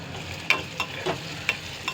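Drumsticks fry and sputter in a pan of curry with a steady low sizzle, while a handful of sharp pops and crackles stand out every half second or so, close and moderately quiet.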